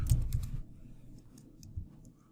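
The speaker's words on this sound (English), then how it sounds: "And so I'll type" Quick bursts of typing on a computer keyboard, a few clustered key clicks at the start and scattered taps later, close and fairly quiet in a still room.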